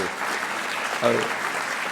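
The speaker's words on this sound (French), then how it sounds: "Vous pouvez les applaudir" An audience applauds after a presentation on a regional health project, a soft, continuous wash of clapping with a brief voice heard midway.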